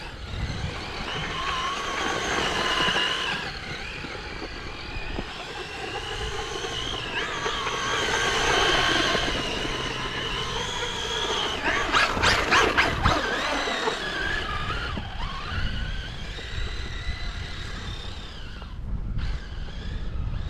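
An HPI Baja 5T RC car on 8S LiPo power drives through snow at about half throttle, its electric motor whining and rising and falling in pitch over steady, loud broadband rushing noise.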